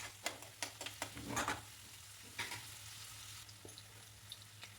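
Onion and garlic sauté with vadagam in hot oil: a faint, soft sizzle punctuated by a quick burst of spatula scrapes and taps early on, then a quieter simmer with a few light clinks.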